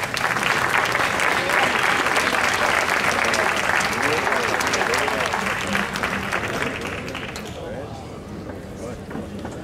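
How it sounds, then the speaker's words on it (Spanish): A crowd at the final of a trovo folk-poetry contest in La Unión gives loud, continuous applause. It fades toward the end, and cheering and voices are mixed into the clapping. "Fuerte el aplauso."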